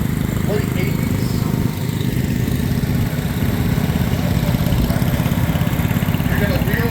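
A late-1980s John Deere 332 lawn tractor engine idles at a steady, loud, rumbling chug, shown at an Illinois steam power show, with crowd chatter faintly underneath.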